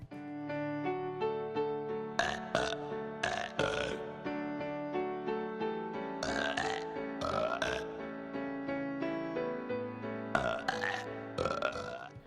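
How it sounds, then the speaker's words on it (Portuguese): A string of loud, voiced burps performed as a musical recital in the Animaniacs cartoon, set over a bright orchestral backing, with burps arriving in clustered bursts across the passage. "existiam episódios totalmente lúdicos, como por exemplo um recital todo feito de arrotos"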